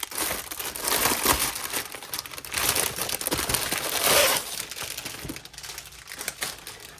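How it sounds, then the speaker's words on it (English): A noisy, crinkly plastic bag from a cross-stitch kit is opened up close, with continuous crackling and rustling bursts that swell and fade over several seconds, heard alone without talk. "crinkly bag."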